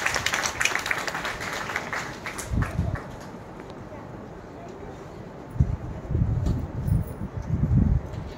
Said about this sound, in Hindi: तालियों के साथ वेलकम किया जाए